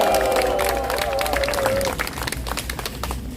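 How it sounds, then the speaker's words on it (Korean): Crowd at a political rally in Korea applauding in a steady wash of clapping that thins toward the end, with a voice and faint cheering underneath. "여러분 이런 의미에서도 한번 박수해 주시기 바랍니다"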